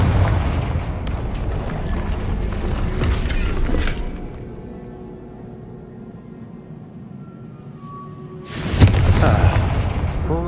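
A Confringo fire spell in Hogwarts Legacy, with a booming blast and creaking mechanical rumble for several seconds that fades into a quiet stretch. A second loud burst follows near the end.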